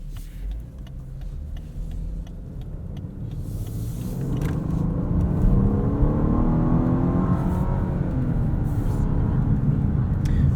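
A 2018 Lexus LS 500 RWD Executive Package drives on a road, heard from inside the cabin: a low, steady road rumble with engine hum that rises as it accelerates, then holds.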